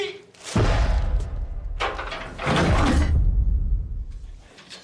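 A door opening in a German TV drama scene, heard as a loud sliding, rumbling mechanical sweep that surges twice close by, with voices briefly present.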